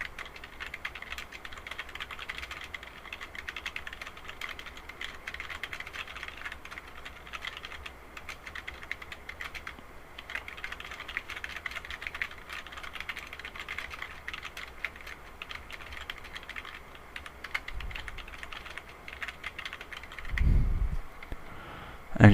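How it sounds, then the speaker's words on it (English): Steady keyboard typing on a computer for notes in Photostory, a continuous run of close, fairly quiet keystrokes with a few louder thumps near the end. "I'm going to type some notes and show you how this box is used."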